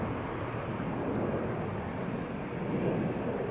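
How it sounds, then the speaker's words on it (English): An easyJet Airbus A320, fifteen years old, departs Amsterdam Schiphol for Liverpool, its steady broadband engine roar holding at an even level throughout with no voices. "this is EasyJet going to Liverpool. Flight 23442 on A320"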